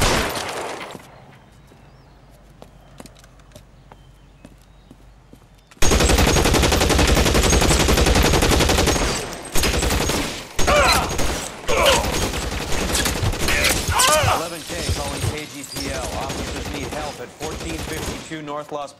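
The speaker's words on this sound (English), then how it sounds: "Shots fired and officers need help" Gunfire in the video game LA Noire during a police shootout: after several quiet seconds with faint background sound, loud rapid bursts of shots erupt and continue densely, with brief pauses, until the end.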